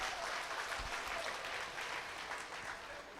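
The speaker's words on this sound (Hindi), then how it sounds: "एक बार 2000 तालियों से इनका इस्तकबाल कर दिया।" An audience at a Hindi poetry recital (kavi sammelan) breaks into sustained, even applause, a dense wash of clapping heard from a moderate distance that fades slightly at the end.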